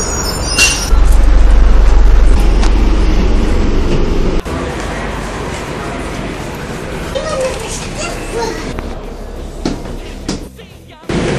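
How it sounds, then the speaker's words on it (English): A city bus pulls up at the stop, a heavy rumble swelling and then dropping with a thud as doors work, while people talk nearby over the traffic noise. "Bus is here."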